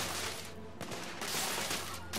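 A loud, continuous barrage of rapid gunfire in The Order: 1886, with several sharper cracks standing out from the dense, steady volley.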